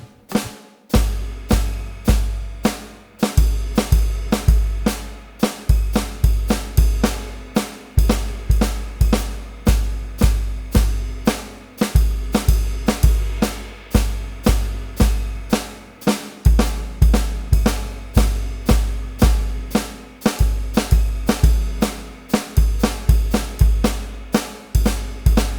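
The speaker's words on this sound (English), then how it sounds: "your bass drum and ride cymbal are now going to accent the quarter notes" Drum kit groove with bass drum and ride cymbal accenting the quarter notes while hi-hat foot and snare hold a steady pulse, a busy, loud, continuous pattern of close strokes played alone.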